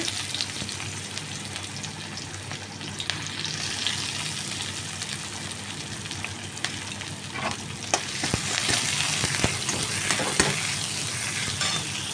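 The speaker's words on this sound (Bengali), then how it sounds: "পেঁয়াজগুলো ভেজে নেবো" Onions frying in leftover oil in a wok after fish, a steady close sizzle with stirring scrapes and spatula clatters throughout, growing louder and busier in the second half.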